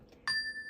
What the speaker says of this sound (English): You will hear a chime, as you will hear right now